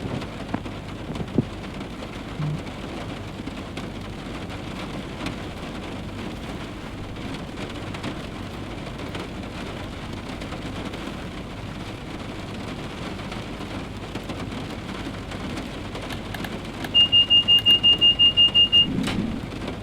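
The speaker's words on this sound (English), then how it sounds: "the weather mod makes rain a bit louder" Rain from a weather mod in the Train Simulator video game hisses in a loud, steady wash, with raindrops pattering and faint distant thunder rumbling underneath throughout.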